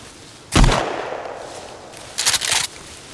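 Gunfire in the survival video game Sons of the Forest: one sharp, loud shot followed by a quick burst of several shots about two seconds later, with no talk.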